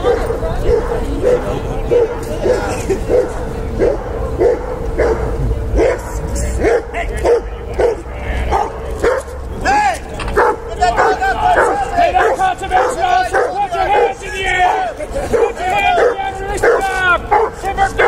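A dog barks and yips repeatedly at an outdoor canine attack demonstration in Queens Park, Toronto, loud and close, with bursts of whimpering between barks while people talk and a crowd murmurs throughout.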